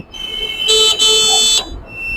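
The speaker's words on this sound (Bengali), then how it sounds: "হর্ন যেটা অনেক শব্দ" A loud electronic horn of a three-wheeled electric scooter blares in two close, sustained beeps with a bright buzzy tone, then cuts off, heard up close.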